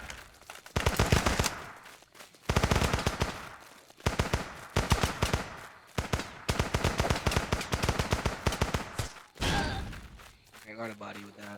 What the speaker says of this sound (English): I'm just running past all these fucking bullets.